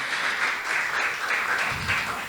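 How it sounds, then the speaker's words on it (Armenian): A church congregation applauds during a Palm Sunday service, giving a short burst of steady, bright clapping heard alone at a moderate level. "եկեք ծափարենք Դավիթ աղբորը։"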